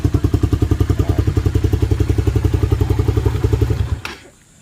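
A Suzuki Raider 150 Fi motorcycle with a loud aftermarket exhaust idles nearby, its rapid, even pulsing beat loud and steady for about four seconds before cutting off abruptly into quiet.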